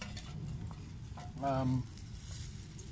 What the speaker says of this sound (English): there we go, it's boiling again.